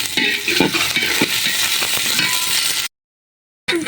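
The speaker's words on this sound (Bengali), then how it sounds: "পেঁয়াজ ও কাঁচামরিচ কুচি দিয়ে এটা ভালোভাবে ভেজে নেব।" Chopped onion, garlic and green chili frying in fat in a pan, a continuous close sizzle with scattered stirring scrapes, cutting out briefly near the end.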